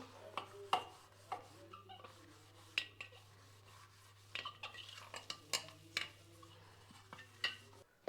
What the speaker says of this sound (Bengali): এখন এই বাসনগুলো মেজে নিতে হবে